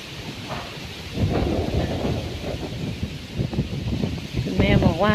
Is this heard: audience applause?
no